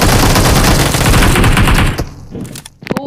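AKM assault rifle gunfire in the PUBG Mobile video game: loud, rapid automatic bursts run continuously for about two seconds, then break off into a few scattered shots and thuds.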